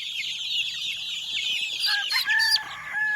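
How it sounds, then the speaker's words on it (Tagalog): Chickens clucking and a rooster crowing nearby while young chicks are fed, with bright repeated calls over a quiet background and no talking. "So magpapakain tayo ng mga sisiyo natin mga boss"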